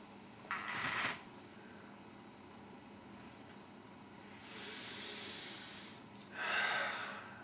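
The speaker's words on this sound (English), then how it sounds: "This is something I do right before I get on camera to record a bit. It's a little breathing exercise." Deliberate breathing exercise: sharp nasal inhales and long hissing exhales in separate bursts, close and fairly quiet, with soft room tone between breaths.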